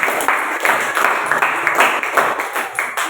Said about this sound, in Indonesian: Ya, beri aplaus dulu untuk kelompok 1.